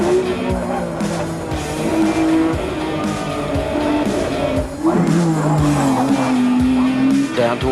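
A Nissan GTR race car powers hard out of a corner at the Cutting on a racing circuit, its engine note climbing through gears with a shift and a second rising pull, loud and steady with a faint tire squeal and other cars around.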